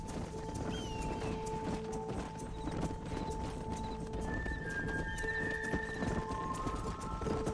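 Horses from the Red Dead Redemption video game clip-clop steadily as a herd is driven to pasture, with an occasional whinny over a dense, continuous bed of game ambience.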